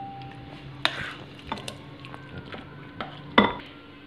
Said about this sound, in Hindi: अब मैं इसको सर्विंग बाउल में निकाल रही हूँ